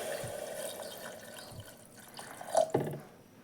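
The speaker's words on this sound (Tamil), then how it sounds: "இந்த சமயத்தில் நம்ம தேவையான அளவு தண்ணி சேர்த்துக்கலாம்" Water pours and splashes into a cooking pot of lentils at close range, moderately loud, with a few sharper drips and splashes near the end.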